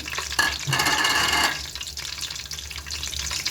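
Cinnamon pieces and black cardamom warming in oil in a pan for Afghani pulao, giving a brief crackling sizzle with stirring that swells for about a second, then fades to a low steady hiss.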